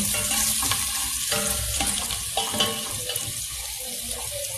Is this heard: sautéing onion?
yes